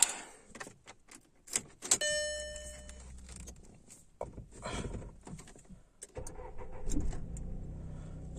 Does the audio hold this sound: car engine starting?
yes